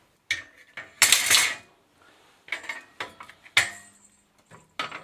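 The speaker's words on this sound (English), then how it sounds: "So now, if I take off these 2 bolts, the whole carrier should come off." Bolts are removed from the carrier of a Sparta Atlas bicycle, with a series of sharp metallic clanks, rattles and tool clinks in short separate bursts, close and without talk.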